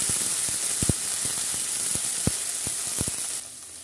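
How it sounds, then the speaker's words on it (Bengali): Ginger paste and garlic paste frying in a pan, a steady close sizzle and hiss broken by a series of sharp knocks as the spatula strikes the pan while the paste is stirred. "এখন দিলাম রসুন বাটা, একটু ভালো করে নাড়াচাড়া করে নিব।"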